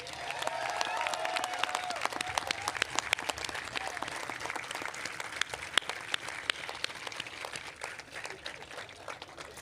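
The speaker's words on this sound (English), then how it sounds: "Graduates, we ask that you give them a round of applause" Sustained applause from a large commencement ceremony crowd, dense steady clapping that holds for nearly ten seconds, with a brief tonal voice or whistle near the start and scattered louder claps throughout.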